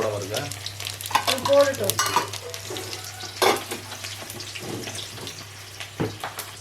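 Small shallots frying in a pan of hot oil for a Sunday mutton curry, a steady sizzle with scraping stirs and a few louder clanks over a constant low hum.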